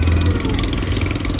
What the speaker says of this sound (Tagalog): itong hose na to ang maingay, parang muffler, parang tambutso na sumisingaw